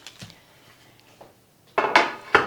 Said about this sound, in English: So I'm going to take them out of the pan